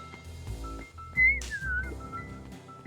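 A character in the video game Beacon Pines whistles a short, wavering tune over soft background game music, with no talking.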